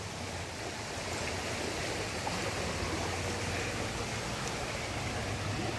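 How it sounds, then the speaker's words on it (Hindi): The Ganga in flood after heavy rain upstream in Uttarkashi rushes past at Haridwar, a loud, steady broadband roar of churning water with no break and no voices. "बहुत ही भयंकर बाढ़ आ रखी है"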